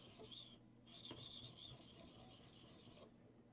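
A hand file rasps off a burr in a few steady swipes, a bright scratchy rubbing that pauses briefly after the first stroke, close and alone.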